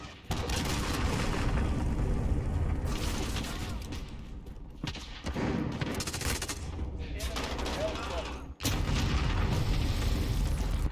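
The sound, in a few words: cruise missile explosion in video game Call of Duty Modern Warfare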